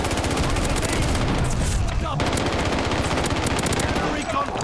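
Nikita AVT rifle in a Call of Duty video game, fired in continuous rapid full-auto bursts, loud and close, with dense overlapping gunfire and explosions throughout.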